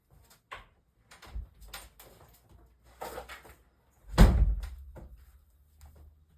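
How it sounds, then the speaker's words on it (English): A door is pushed shut indoors with one dull, fairly loud thud and a short low rumble after it. Soft knocks and rustles of handling come a moment before. "I'm just gonna close the door."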